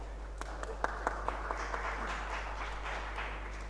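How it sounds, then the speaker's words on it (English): Scattered audience clapping at a CEO roundtable on trade and investment, a few sharp individual claps at first that thicken into light, moderate applause over a low steady hum. "let's clap"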